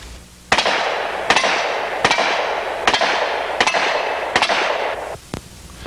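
Seven sharp revolver shots fired with hand-reloaded ammunition ring out one after another at roughly even intervals, each a loud crack with a brief trailing echo, and no voices are heard.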